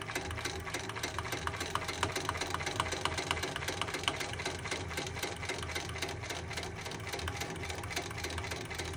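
A cylinder arm sewing machine runs steadily through the whole stretch, a continuous close, fast-rhythm stitching whir with no talk over it.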